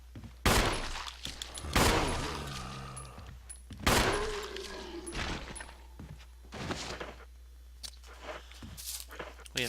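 Handgun fire in the video game Resident Evil HD: several loud, sharp shots spaced a second or two apart, followed by scattered softer impacts and shuffling.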